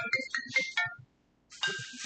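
A phone rings in bursts of a bright electronic ringtone during a group session, two ringing phrases separated by a short silence, close and fairly loud with no talk over it.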